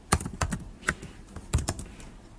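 Keys clack on a computer keyboard while entering a formula in an Excel spreadsheet, a loose cluster of crisp, close keystrokes in irregular rhythm with no talking.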